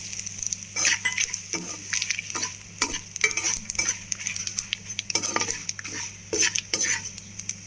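Chickpeas fry with a steady sizzle in a pan, mixed with turmeric and salt, while a spoon stirs and scrapes against the metal in irregular clinking strokes close by.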